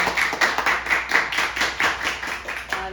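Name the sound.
audience clapping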